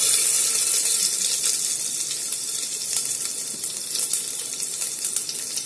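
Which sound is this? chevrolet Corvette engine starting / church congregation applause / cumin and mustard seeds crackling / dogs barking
cumin and mustard seeds crackling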